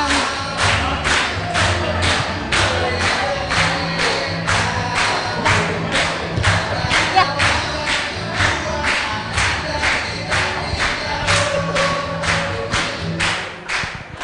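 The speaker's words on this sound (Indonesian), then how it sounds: "Tepuk tangan sekali lagi untuk Tuhan" A church congregation at a Karo Batak retirement worship service claps together in a steady, rhythmic beat that carries on for about fourteen seconds at close range, with a faint crowd murmur underneath.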